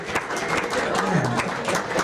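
Comedy club audience in Grand Rapids applauding, a dense, steady wash of clapping from a full crowd, loud and close throughout with a few cheers mixed in.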